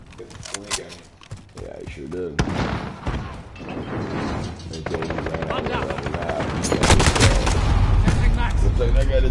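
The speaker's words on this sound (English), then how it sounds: "Enemy support helo in the air." Call of Duty Modern Warfare team deathmatch with an enemy support helicopter overhead and bursts of gunfire, loud layered shots and rotor rumble building into dense continuous battle noise, with game voice callouts mixed in.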